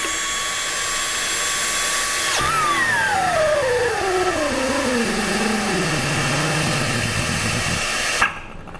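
A CP7600 BlueTork pneumatic torque wrench working a tractor wheel nut makes a loud steady air whine that drops abruptly, then winds down in pitch, ending with a sharp knock.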